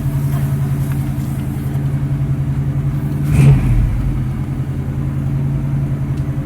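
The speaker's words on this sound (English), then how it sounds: "Love the rumble this car makes." A 1969 Chevrolet Camaro 350SS convertible's V8 rumbles steadily at idle nearby, swelling briefly into a louder rev midway before settling back to the same deep, even burble.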